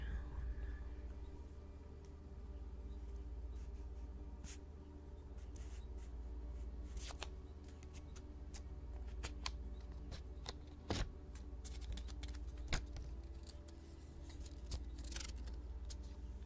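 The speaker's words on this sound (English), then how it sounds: "So many nice paper sounds." Paper cards being handled and shuffled close up, soft rustles, crinkles and light taps scattered over a quiet background.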